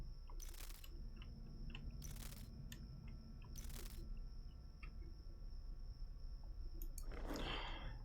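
Footsteps in the game Scrutinized land as three evenly spaced soft thumps over a steady ambient hum, followed by a brief crunchy rustle near the end.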